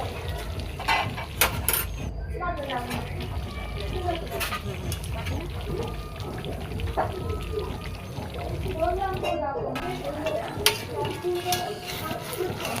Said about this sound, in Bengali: আমি চামচ দিয়ে ভালো করে এভাবে থেতো করে দেব কিছু পরিমাণ রসুন